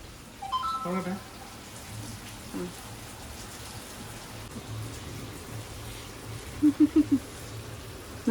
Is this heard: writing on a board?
no